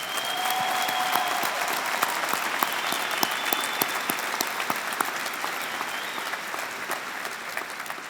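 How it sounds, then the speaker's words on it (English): A large crowd at a 2021 Kings High School graduation ceremony applauds with sustained dense clapping, sharp individual claps standing out above the wash as it slowly tapers off. "Please give Mr. Cordini a very large round of applause"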